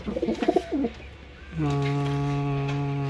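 Close cooing from domestic pigeons, a steady drawn-out coo after a few brief bursts of a voice in the first second.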